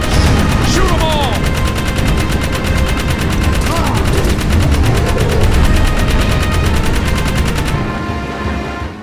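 Rapid automatic gunfire in the Jak 3 video game aimed at Metal Pedes in a nest, a loud continuous stream of shots rattling without pause over game music and effects, cutting off near the end.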